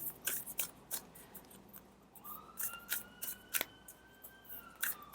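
Quick papery flicks and riffles of tarot cards being shuffled, several short bursts close by, with a faint thin whistle in the background.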